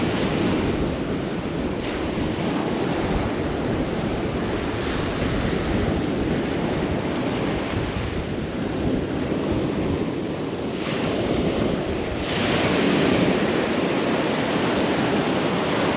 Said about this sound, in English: And that wind, it's actually ridiculous.